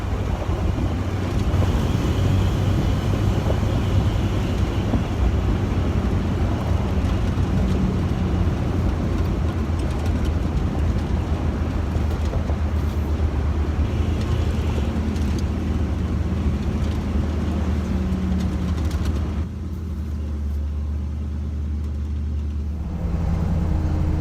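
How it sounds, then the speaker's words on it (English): A 1974 Ford Bronco with a 351 V8 drones at a steady low pitch while driving, a continuous rumble mixed with road and wind noise; the sound eases slightly near the end. "I'm loving this engine."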